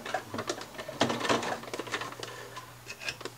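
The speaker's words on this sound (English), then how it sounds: "back stitch at the end to secure the thread" A sewing machine stitches a seam on a fabric rice heating pack, a quick burst of mechanical stitching with short pauses and a brief back stitch, close and fairly quiet.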